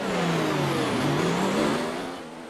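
Race cars in the F1 2019 video game roar off the line at the race start, a loud continuous engine drone with rising revs from a pack of cars.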